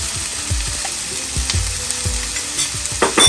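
Chopped potatoes sizzle and crackle in a hot pan while making rava upma, with repeated stirring scrapes and soft thuds close by and no talking.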